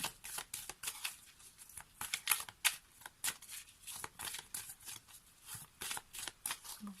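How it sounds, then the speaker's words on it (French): Oracle cards being shuffled by hand, a quiet, close, steady riffle of papery flicks and slides that runs without a break and without talk. "on va prendre une carte de l'oracle de la lune"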